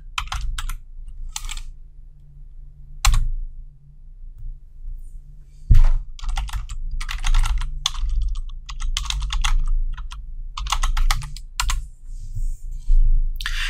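Typing a git add command on a computer keyboard, with loud close bursts of keystrokes broken by short pauses and a few heavier thunks.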